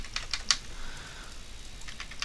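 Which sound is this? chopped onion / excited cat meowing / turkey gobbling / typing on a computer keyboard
typing on a computer keyboard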